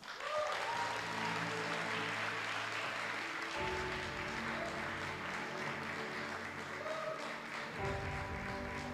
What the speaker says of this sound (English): Please join me in giving a round of applause for our spectacular kids